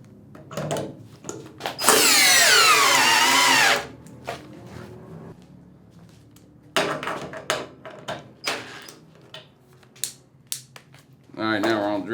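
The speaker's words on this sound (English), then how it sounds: "Let's go ahead and run this bolt through again real quick." A Hercules screw gun from Harbor Freight drives a bolt in one loud, close whirring burst of about two seconds, with rising and falling motor pitch, framed by someone talking before and after.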